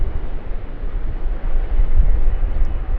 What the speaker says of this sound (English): runway 25 operations beginning here with the Wamos Air Airbus A330-200 heading off to Manila